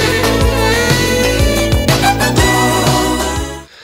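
A saxophone playing a sidekey trill, a rapid fluttering alternation between two close notes held over a steady backing beat, loud and continuous for a few seconds before cutting off, no talking.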